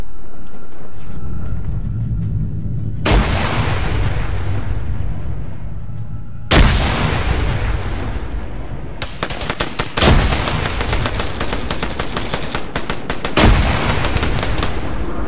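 Gunfire in the military shooter game Arma 3 on Stratis: loud, close bursts of automatic fire and single heavy shots, with sharp cracks followed by rolling echoes, repeating in several volleys over the span.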